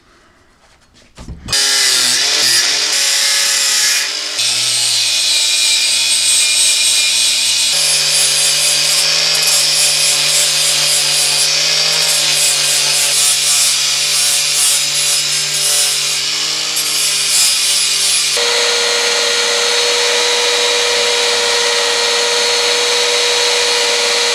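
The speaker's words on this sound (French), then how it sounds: "Enfin finir la lame, c'est juste l'affûtage." A knife blade forged from an old rusted shovel is sharpened, probably on a powered grinder: a steady, loud, harsh grinding rasp that starts abruptly and runs continuously, shifting in pitch as the blade moves.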